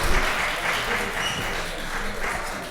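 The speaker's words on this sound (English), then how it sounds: "And there's those public school teachers making sure they applaud everyone." A crowd claps steadily throughout at a Pittsburgh City Council meeting, a dense wash of applause at moderate distance with no pauses.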